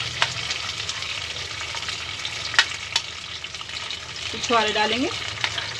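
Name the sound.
frying cardamom and raisins in pan for sheer khurma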